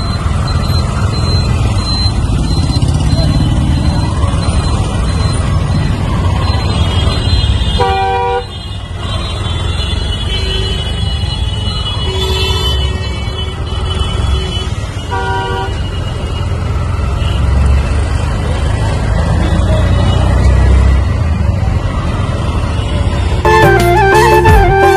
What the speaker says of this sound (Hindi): ट्रैफिक का बड़ा जाम है यहाँ पर